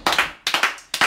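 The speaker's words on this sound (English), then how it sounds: "Somebody clap for Jesus" A church congregation claps hands in a loose rhythm, three quick bursts of overlapping claps close together, loud and near, with no voices.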